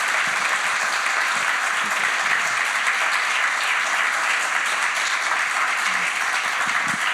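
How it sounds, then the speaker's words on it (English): Loud, steady applause from an audience at a climate conversation event at a museum, a dense and even wash of clapping that continues without a break for the whole seven seconds. "Well, can y'all give Alicia a round of applause, please?"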